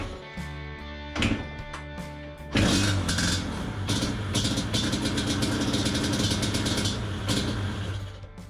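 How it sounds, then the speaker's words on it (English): Yamaha Banshee 350 two-stroke engine being kick-started, with a couple of brief kicks before it catches and runs with a steady, close, buzzy mid-pitched drone. "Now I kind of need to fire it up and let it warm up and see if I can get it to idle"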